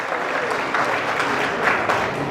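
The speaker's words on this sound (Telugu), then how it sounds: "ఒకసారి గట్టిగా చప్పట్లు కొట్టి జయజయలు పలకాన్ని కోరుతున్నా" A crowd claps continuously and densely at a political speech in Andhra Pradesh, a steady wash of applause with a few louder swells throughout.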